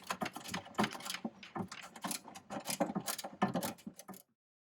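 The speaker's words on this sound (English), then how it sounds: "Loosen this off and completely take this bolt out like that" Metal bolt being loosened and fully removed from a vinyl bubbler's wooden shipping crate, close and clear: a busy run of ratcheting clicks and scraping turns that stops abruptly.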